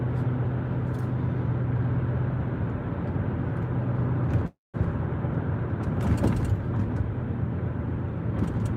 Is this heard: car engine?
yes